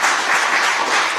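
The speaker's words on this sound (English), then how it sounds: "Give her a round of applause." An audience in West Basseterre applauds a principal nursing officer, a dense, steady burst of clapping from many hands with no speech.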